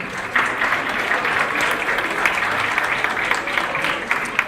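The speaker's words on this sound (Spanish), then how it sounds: "un aplauso." Attendees at a poverty panel forum clap for a doctor introduced by name, producing a brief, even round of moderate applause from a seated audience that stays steady for several seconds.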